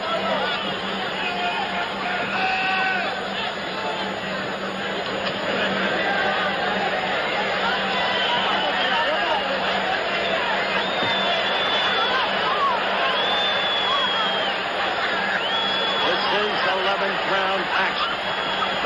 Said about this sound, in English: crowd roars incessant.